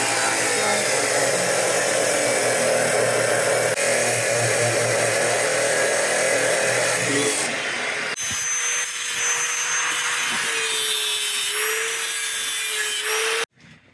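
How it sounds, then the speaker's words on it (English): A power saw cuts the threads off a length of black iron pipe, a loud, steady grinding drone for about eight seconds that then drops to a thinner, lighter whine before stopping abruptly. "what I'm going to do is cut the threads off"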